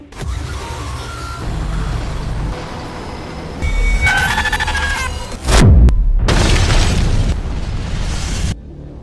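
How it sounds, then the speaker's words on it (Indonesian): A loud generator explosion bursts out midway, followed by roaring, crackling debris noise, after a stretch of rumbling mechanical background. "Tak lama berselang, terjadi ledakan pada generator yang mana Will menjelaskan"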